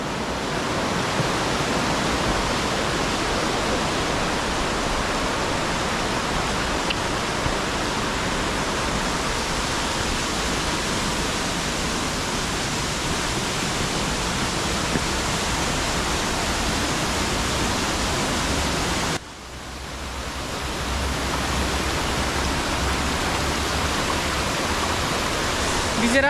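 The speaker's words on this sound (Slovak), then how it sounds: "A to je aký ukrytý vodopádik malý." A small hidden waterfall in Bali pours in a constant, loud rushing wash of water, close and unbroken, with a brief dip partway through before the roar resumes.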